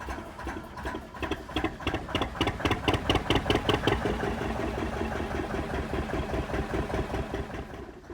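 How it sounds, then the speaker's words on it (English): A large Ruston DM2 diesel engine in a boat's engine room runs with a steady, rhythmic thumping beat, loud and close, settling into an even chug after a few seconds. "Thumper the DM2, which is still thumping away behind us"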